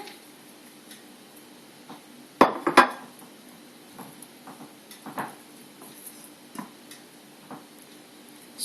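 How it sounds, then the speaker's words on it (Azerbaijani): Chopped onion, pepper, potato and tomato are laid into a cooking pot for a steamed sturgeon dish, with two sharp metallic clanks of utensils against the pot among scattered quieter knocks and taps in a quiet room. "Yəni doğradıqlarımı sırayla qazana yığıram."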